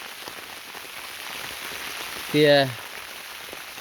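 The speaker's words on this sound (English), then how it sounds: "But everybody's loving the rain." Steady rain falls outdoors onto surfaces, a continuous close patter with a brief spoken word partway through.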